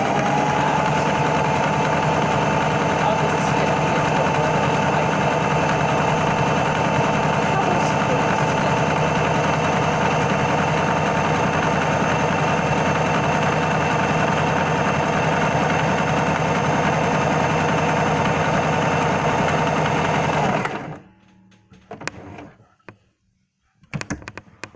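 A sewing machine stitches fabric for a fur hat, running loud and steady for about twenty seconds before stopping abruptly, followed by a few quiet handling sounds.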